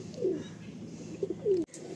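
Tournament racing pigeons cooing close by, two soft, throaty coos in quick succession with low background noise.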